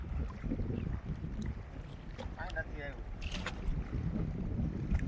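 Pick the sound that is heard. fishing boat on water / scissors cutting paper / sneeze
fishing boat on water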